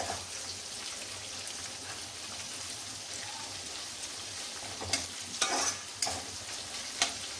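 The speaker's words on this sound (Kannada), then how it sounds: "ನೋಡಿ, ಆಗ್ತಾ ಇದೆ ಫ್ರೈ." Peanuts, cumin and curry leaves sizzle in hot oil in a pan while tempering for lemon rice, a soft steady crackle with a few sharper spits and clinks of stirring near the end.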